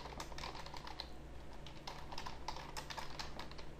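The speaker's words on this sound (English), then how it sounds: "Type my password in wrong." Quiet, rapid clicking of a computer keyboard as a password is typed, a steady run of close, light keystrokes that continues throughout.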